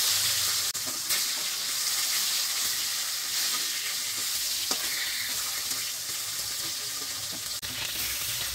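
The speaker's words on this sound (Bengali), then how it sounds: "নুন হলুদ দিয়ে প্রথমে মাছটা ভেজে নেব।" Katla fish pieces frying in hot oil with salt and turmeric, a steady close sizzle and crackle with occasional sharper pops, no voices.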